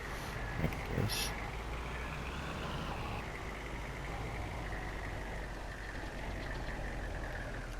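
A truck in Farming Simulator 22, with an attachment on the back, runs at a steady idle, a constant low engine drone with a faint voice briefly over it.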